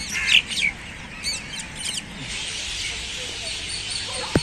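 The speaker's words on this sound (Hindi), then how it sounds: "यहाँ पे ना मतलब चिड़ियों की चहचहाट की आवाज़ भी आती है यार, जैसे सुन सकते हैं मेरे बैकग्राउंड में आ रही है अभी" Birds chirp and tweet in a city park, with a few sharp calls near the start and fainter chatter spread through a steady outdoor ambience.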